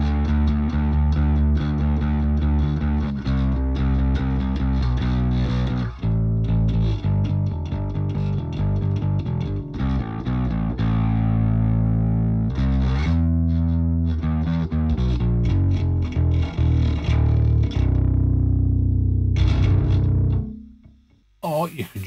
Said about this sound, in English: if you just wanted to have your distortion on your top end, you can just switch the growl off